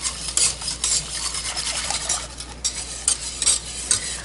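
Hand whisk stirring milk into a béchamel sauce in a pot, a steady scraping, swishing rasp with uneven strokes and small clinks, close up and moderately loud with no talking.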